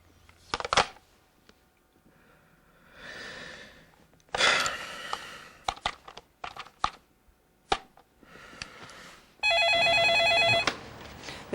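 Telephone in a radio drama: a burst of loud electric bell ringing near the end, preceded by scattered clicks, knocks and handling noises of someone preparing to call, with no speech.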